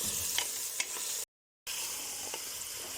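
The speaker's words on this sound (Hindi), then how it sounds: "इस मटन को हम प्याज के अंदर और घी के अंदर तकरीबन 5 मिनट के लिए अच्छे से इसकी भुनाई करेंगे" Mutton sautéing in onions and ghee for deggi mutton korma: a soft, even sizzle with a few light stirring clicks, broken by a brief moment of dead silence partway through.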